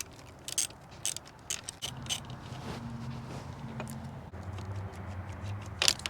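A ratcheting wrench unscrews an 11 millimeter bolt on an electric bike, giving short bursts of clicking close by, separated by pauses and light handling noise.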